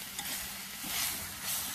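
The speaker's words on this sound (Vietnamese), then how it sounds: "Chúng ta xào cho cái thịt và cái cải thảo chúng ta, cái kim chi đó nó hòa quyện mà nó thấm cái gia vị." Pork, napa cabbage and kimchi are stir-fried together in a pan over low heat, giving a steady, close sizzle with soft stirring scrapes rising and falling and no voices.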